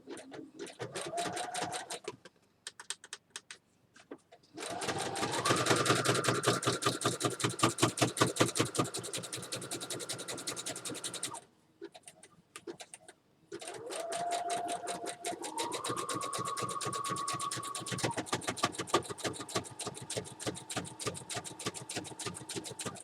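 A sewing machine running a zigzag stitch while making a journal from hanging file folders, with a fast, close mechanical rattle in long bursts separated by brief pauses and a rising motor whine as it speeds up.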